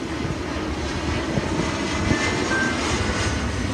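An airplane passes overhead outdoors, a steady broad engine roar holding at an even level throughout with no voices over it.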